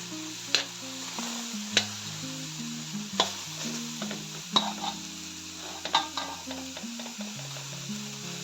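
Mussels simmer with moringa leaves in a pan, a soft steady sizzle with a few sharp stirring clinks, under quiet background music.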